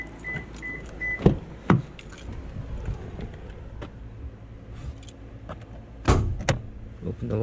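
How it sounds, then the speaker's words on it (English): Keys jangle and the door of a 2015 Toyota Tacoma pickup unlatches and opens with a few close, sharp clunks and clicks, with brief talking in between. "So first, let's open the car."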